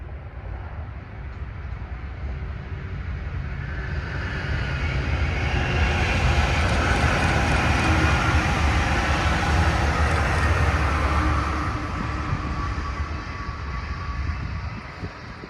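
Brightline train passing southbound toward Miami in Orlando, Florida, a broad roar that swells and holds for about ten seconds, then fades.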